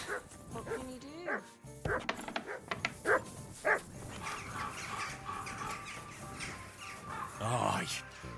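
Dog barking in the Kingdom Come: Deliverance 2 video game, a few short barks mixed among game dialogue and ambient sounds, with voices talking throughout.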